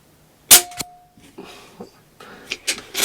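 Snowpeak M60 .22 calibre air rifle fired, one sharp loud crack followed by a quick second snap, then fainter mechanical clicks and rustles of handling.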